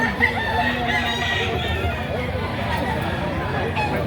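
A rooster crows amid a noisy crowd at a Saturday gamefowl market in Lipa, Batangas, with people chattering and talking close by throughout.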